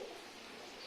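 Imported Teddy pigeons coo in a short, steady burst, a soft low warble under faint background noise, close by.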